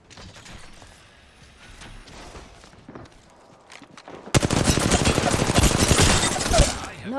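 Video game gunfire erupts suddenly after a quieter stretch, a loud rapid burst of repeated shots and clatter that continues to the end.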